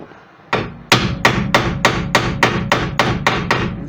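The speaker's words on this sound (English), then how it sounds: "give it a smack with a hammer, and you'll find it will start moving" A hammer strikes the metal rear hub of a 2001 Alfa Romeo 156 nine or ten times in a steady rhythm, each blow sharp and ringing, close and loud.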